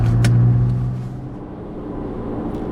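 A car engine runs close by, opening with a loud low hum and a brief rev that eases into a steady idle rumble.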